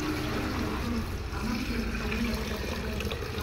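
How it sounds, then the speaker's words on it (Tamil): A measured amount of water poured into a biryani pot, a steady continuous splashing stream with a faint voice in the background. "அளவு தண்ணி வச்சுருக்கோம், ஊற்றிடலாம்."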